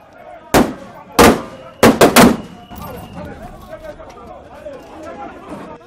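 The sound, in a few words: live gunfire during protests in Goma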